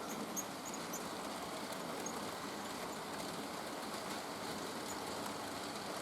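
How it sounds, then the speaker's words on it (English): A model train runs through the scenery on a layout, giving off a steady, continuous whirring rumble with a faint high rattle. No one speaks. "It's really nice to have a train actually run through scenery on the layout."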